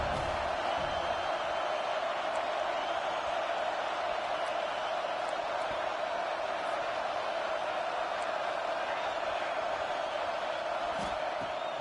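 Crowd noise in a college football video game, Penn State playing at USC, forms a steady, continuous roar throughout with no sharp peaks or breaks.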